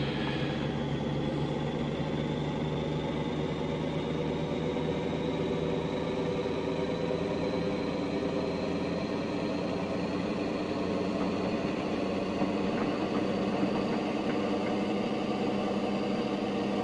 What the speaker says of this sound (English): we can get some max throttle, really open up that 650 horsepower engine of ours